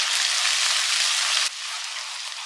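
Ginger garlic paste frying in a pan for Sankara fish curry, giving a loud, dense, rain-like sizzle that drops slightly in level halfway through and then continues steadily, close up with no talking.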